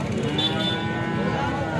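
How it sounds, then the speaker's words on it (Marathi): Holstein Friesian cow mooing at a busy cattle market, a long low drawn-out bellow close by over a steady murmur of crowd and livestock noise. "एचएफ जातीची गाई आहे."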